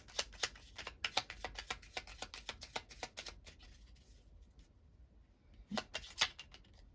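Tarot cards are shuffled by hand in a rapid run of crisp riffling flicks, then pause briefly before a few louder snaps as cards are drawn, close and quiet, with no talking.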